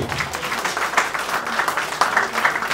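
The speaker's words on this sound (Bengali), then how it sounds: "সবাই জোরে একটা তালি দেই।" Applause from the audience at a networking seminar greets the introduced speaker, a dense wash of clapping holding steady for a few seconds with faint voices mixed in.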